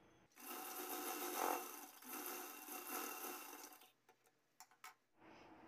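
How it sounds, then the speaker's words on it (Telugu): Sewing machine stitching the side seam of a blouse, a close, fast whirring run lasting several seconds that then breaks into short taps and stops, with no talking. "ఈ 2 ఇలా గట్టిగా ఇలా నొక్కు పెట్టి పట్టుకుని స్టిచ్ చేసేయండి."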